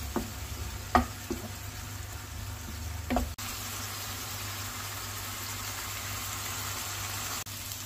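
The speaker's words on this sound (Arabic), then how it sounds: "هسه حمس عندنا اللحم" Minced meat frying in a pan for eggplant moussaka, a steady broadband sizzle throughout with a couple of clattering stirs early on and a brief break before the sizzle resumes, close up.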